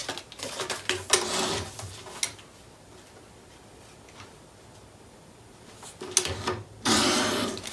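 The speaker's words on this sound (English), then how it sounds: "This is actually a little bit wider than the pocket, so I'm going to trim it." Paper liner for a Graphic 45 Nature Notebook pocket trimmed about 1/16 inch to width with a cutter: a few short bursts of crisp slicing and clicking near 1, 2, 6 and 7 seconds, separated by quiet stretches.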